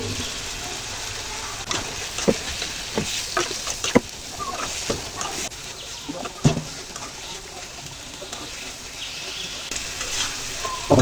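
Chopped tomatoes and green chillies frying in oil while being stirred for a tomato fish curry, a close continuous sizzle broken by repeated scraping strokes of the spoon, with no talk.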